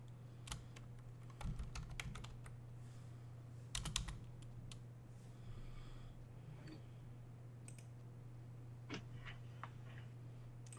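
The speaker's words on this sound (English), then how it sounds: "hold the shift key and push the colon" Keys pressed on a computer keyboard, including the shift and colon keys, in scattered clicks and short bursts with pauses between, moderately quiet against a steady low hum.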